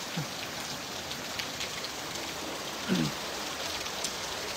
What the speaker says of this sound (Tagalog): Malakas ang ulan.